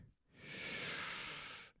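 A steady, airy downloaded fizz sound effect swells in quickly, holds evenly for over a second, then cuts off abruptly, with nothing else around it.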